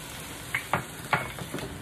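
Cooking cream goes into mussels in a hot pan, sizzling softly with several quick scraping stir strokes, close and fairly quiet.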